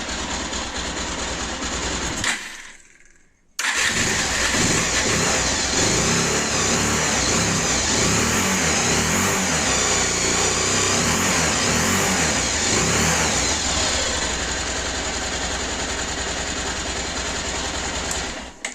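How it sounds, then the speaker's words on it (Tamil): A Bajaj Pulsar 220 motorcycle engine revs under the throttle. After a short cutout near the start, a loud, continuous roar holds close by for most of the stretch, then eases off near the end, with no talking. "அதே வண்டி நான் கொஞ்சம் ஆக்சிலேட்டர் கொடுக்குறேன்."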